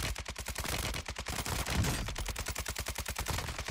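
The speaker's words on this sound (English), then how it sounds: "How have I missed so many shots there?" Rapid automatic gunfire from the Warzone video game rattles continuously in a fast, steady rhythm, loud and close throughout.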